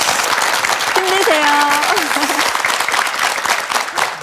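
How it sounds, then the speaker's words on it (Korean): A television studio audience breaks into loud, sustained applause of encouragement, a thick continuous clatter of many hands, while a voice briefly calls out over it and another sings or hums a short tone. "멀리 계신 베트남에 계신 아버지께도 우리 희망과 격려의 박수"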